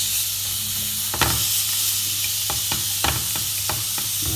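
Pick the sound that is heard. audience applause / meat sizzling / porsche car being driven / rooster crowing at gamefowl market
meat sizzling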